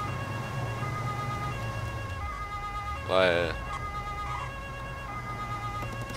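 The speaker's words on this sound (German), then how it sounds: "jetzt dudelt hier die ganze Zeit uns das Martinshorn die Ohren voll" Police Martinshorn siren from the game Autobahnpolizei Simulator 2015, a sustained two-tone wail that holds steadily throughout while someone speaks briefly over it.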